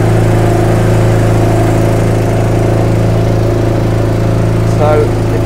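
A farm sprayer's engine runs at a steady, loud idle with a constant low rumble and vibration throughout, close by.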